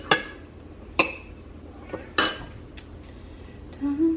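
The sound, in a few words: mixing sandwich filling in a bowl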